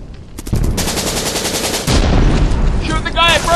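Machine gun fire in Modern Warfare, a loud, dense continuous burst of rapid automatic shots lasting several seconds, up close, with a shouted voice rising at the end.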